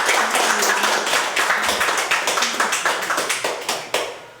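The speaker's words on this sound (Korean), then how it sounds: "박수 맞아주시죠" Applause at a cosmetics brand launch press conference, a group clapping in a loose rhythm that thins out toward the end into a few distinct claps before fading.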